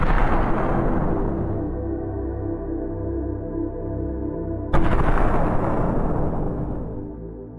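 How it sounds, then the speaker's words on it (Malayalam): A phone recording captures the Beirut explosion as a heavy, roaring rumble that fades slowly, then a second sudden, loud broadband blast from the shock wave hits midway and keeps booming. "ബ്യൂറട്ടിൽ നടന്ന ഈ ഒരു സ്ഫോടനം നമ്മളെല്ലാവരും അന്ന് കണ്ടതാണ്."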